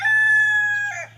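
A backyard rooster lets out a single loud, close crow, a long sustained call that breaks off at the end, with a faint low hum beneath and no talking.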